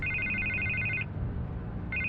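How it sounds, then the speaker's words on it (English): A telephone rings in the Batman: The Telltale Series video game, a trilling electronic ring repeating in bursts over a low steady rumble, with no talk. "I can't get the phone to stop ringing."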